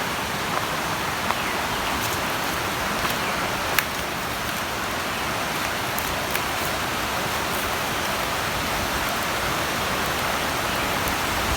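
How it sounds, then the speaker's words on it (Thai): Heavy rain pours down in a forest during a mushroom and wild-fruit foraging trip, a dense, steady hiss of drops on foliage that stays constant throughout, with no voices. "โอ้ฝนตกหนักมากเลยทุกคน"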